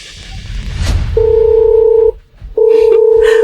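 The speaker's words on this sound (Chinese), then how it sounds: "我现在就给财务打电话" A telephone tone sounds twice as long steady beeps separated by a short gap while calling the finance department, preceded by a faint rustle.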